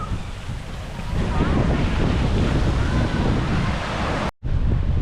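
Ocean surf rolls onto Cathedral Cove beach in Coromandel, New Zealand, a steady close roar heavily buffeted by wind on the microphone, with a brief dropout near the end.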